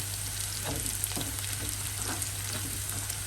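Chopped onion and ginger frying in a pan, a steady close hiss with a few soft stirring scrapes, alone at moderate level.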